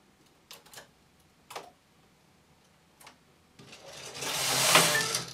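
A knitting machine working a crescent-shaped shawl gives a few sharp, isolated clicks, then a rising, hissing carriage sweep close by that swells and fades near the end.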